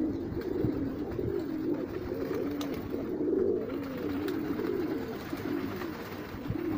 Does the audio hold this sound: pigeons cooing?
yes